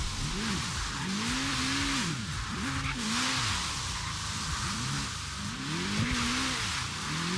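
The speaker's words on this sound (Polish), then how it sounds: "Operuję gazem, żeby fajnie driftować." A car drifts through rain in the Forza Horizon 3 racing game, its tires squealing in repeated rising and falling whines over a steady, loud engine roar and a broad hiss of spray.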